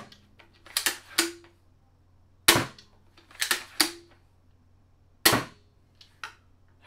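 Stinger II Special Edition gun fired in quick groups, sharp snapping shots in clusters of two or three separated by quiet pauses, about ten cracks in all, close and loud.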